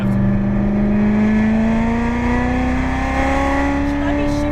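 A Corvette Z06 engine pulls hard on the Las Vegas Motor Speedway track, a loud, close, steadily rising drone from inside the car as it accelerates, with a voice speaking over it.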